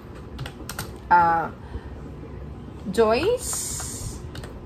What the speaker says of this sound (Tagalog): Mapapansin nyo habang nagtatype kayo pa-curve